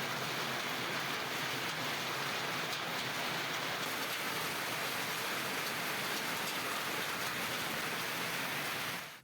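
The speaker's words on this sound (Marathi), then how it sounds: "कसबा बावडा परिसरामध्ये मोठ्या प्रमाणात गारांचा पाऊस झाला" Heavy rain with hail pounds down across the Kasba Bawada area, a dense, steady wash of hiss and patter that stays loud and unbroken throughout, with no voices.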